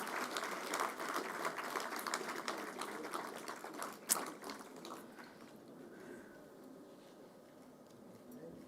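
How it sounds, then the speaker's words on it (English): Convention audience applauding at an industry association's annual general meeting, a dense steady wash of clapping that fades and thins toward the end, with a sharp single clap near the middle. "A round of applause, ladies and gentlemen."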